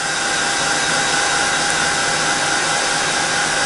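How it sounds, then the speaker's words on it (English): Steady, continuous rush of hot air from a Ranger Quiet Heat Tool, a crafting heat gun, held close and running at constant loudness throughout with no talking. "I can use my handy dandy new Ranger Quiet Heat Tool."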